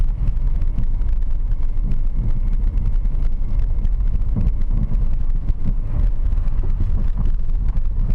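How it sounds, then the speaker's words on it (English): A car rolls slowly along a snow-covered road at about 20 to 25 km/h, with a steady low rumble of engine and tyres and some wind buffeting that stays constant throughout. "the roads are covered in snow, so I'm driving at about 20 to 25 kilometers an hour"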